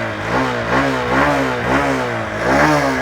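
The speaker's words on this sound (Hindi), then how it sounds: "आइडियल कंडीशन पर आप इस बाइक का इंजन साउंड सुनो, एग्जॉस्ट नोट सुनो।" A Honda SP motorcycle engine and exhaust note, a steady mid-pitched thrum close by that swells and eases in gentle revs, with faint road noise behind it.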